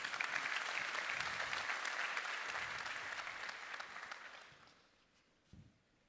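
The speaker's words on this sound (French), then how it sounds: "Sous vos applaudissements, s'il vous plaît." Audience applause at the opening ceremony of an insurance conference, a dense, steady clapping that gradually fades out over the last seconds, with a few isolated claps at the end.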